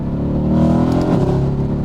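An older Mercedes-AMG car accelerating hard in second gear, a loud, steady engine roar with rising pitch heard up close from inside the cabin, with no talking.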